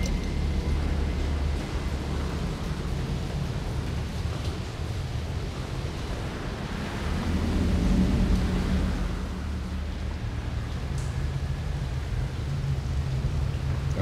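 Rain pours steadily with a low rumble of thunder swelling midway, a dense outdoor storm in The Evil Within survival horror game, continuous and fairly loud with no talk.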